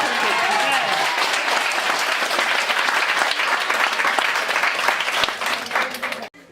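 Church congregation at a prophetic testimony service breaking into loud, dense applause with cheering voices mixed in, sustained for about six seconds before cutting off abruptly.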